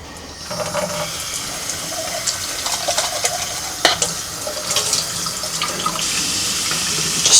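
Quinoa rinsed in a small strainer under running water, a steady close hiss of flowing water with scattered clinks and splashes as the grains are shaken, no talk.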